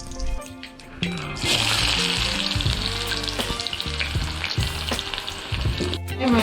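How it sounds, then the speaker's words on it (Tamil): Fennel and mustard seeds sizzle and crackle in hot oil while tempering for crab masala, a loud, steady frying hiss that runs almost the whole time with brief pops and no talking. "சோம்பும் கடுகும் போட்டு தாளிக்கணுங்க."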